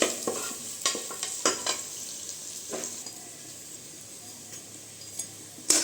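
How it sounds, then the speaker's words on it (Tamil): Onions sauté in a pan for a soya chunk gravy, a quiet, steady sizzle broken by sharp spoon scrapes and clinks against the pan, with a few more near the end. "இப்போ பார்த்திங்கன்னா வெங்காயம் வதங்கி வரட்டும்"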